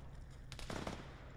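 Gunfire in a military video game: a short burst of shots from a modest distance, low in level over a steady rumbling background.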